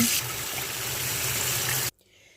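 Cold tap water gushes steadily from a faucet over boiled mushrooms being rinsed in a kitchen, a close, even splashing flow that cuts off abruptly near the end.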